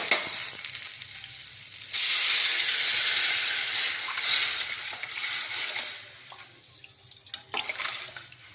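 Rasam made with wedding-style rasam powder bubbling hard toward a boil over a high flame, a steady loud broadband hiss and simmer that swells suddenly and holds, then eases off with a few crackling pops, with no voices.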